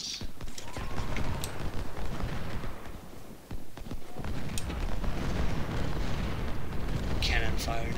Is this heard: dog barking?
no